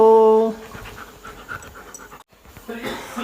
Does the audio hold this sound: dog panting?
yes